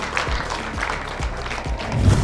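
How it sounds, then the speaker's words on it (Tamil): An audience gives a mother a round of applause at a Mother's Day celebration, a steady burst of clapping from a crowd, fairly loud and close throughout. "ஸோ மிகப்பெரிய ஒரு கைத்தட்டல் கொடுத்துடலாம் அம்மாக்கு"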